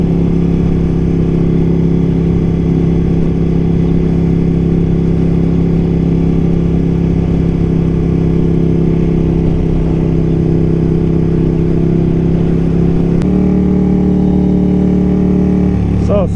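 A Ducati Panigale 1299 S Anniversario engine running close and loud with a steady low drone, its pitch shifting partway through as the throttle changes, with someone speaking over it.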